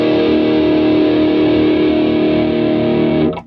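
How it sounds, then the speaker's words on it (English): Electric guitar played through a G3 distortion pedal, a thick, saturated sustained chord ringing loud and steady for about three seconds before being cut off abruptly. "Here's the G3 distortion."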